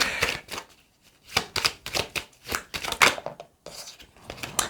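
Quick riffling bursts of a 32-card deck of playing cards being shuffled, several rapid rounds close up, with brief pauses between them and no talking.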